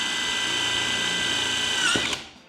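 A power drill bores a hole through a farmhouse ceiling, a loud steady whine held close for about two seconds that slows and winds down as the trigger is released.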